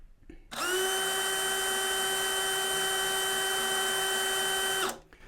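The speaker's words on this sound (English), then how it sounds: "So this is level 1 on normal drill mode." A DeWalt cordless impact drill spinning in normal drill mode at its lowest speed setting, a steady whining motor hum that starts abruptly, holds evenly for about four seconds and cuts off, close and alone.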